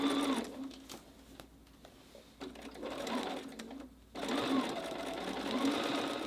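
A sewing machine stitches parallel lanes through layered fabric for a chenille rug, running in steady bursts that pause around the middle and then resume, close and fairly loud.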